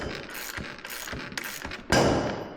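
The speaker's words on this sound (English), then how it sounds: "When it starts to get tight on the ratchet, and you can really feel that spring being compressed." A ratchet wrench clicks and grinds while compressing a coil spring on a Nissan suspension. The mechanical noise is steady, close and fairly loud, with a sharper surge near the end and no speech.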